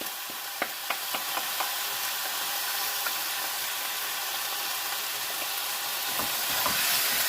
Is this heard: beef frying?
yes